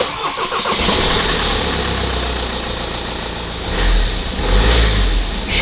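A Volkswagen bus with an automatic DSG transmission and about 442,000 km on it, overdue for service, starts up close by and settles into a steady idle, with a slight rise in revs near the end.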